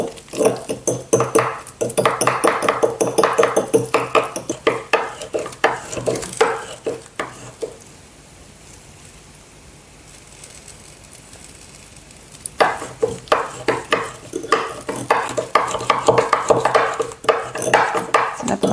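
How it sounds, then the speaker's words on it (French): Whisk working ripe avocado with lemon juice into guacamole, busy rapid scraping and clicking against a bowl, loud and close, pausing for a few quiet seconds midway before resuming. "C'est la première fois que j'essaye ce fouet pour faire ça."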